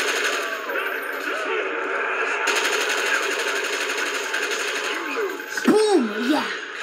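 An RPK machine gun fires in Call of Duty Black Ops as a sustained, rapid, rattling stream of shots. A voice talks and exclaims over the gunfire, growing louder near the end.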